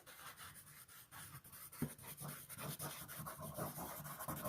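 Pencil shading on paper while drawing tone with the left hand, a soft, steady scratchy rubbing of repeated strokes, faint and close, growing slightly heavier with no talk.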